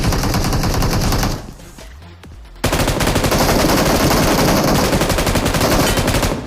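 M249 machine gun fire in the BGMI mobile battle-royale game: loud, sustained rapid-fire bursts, briefly dropping to a quieter lull near the two-second mark before the heavy automatic fire resumes and continues to the end.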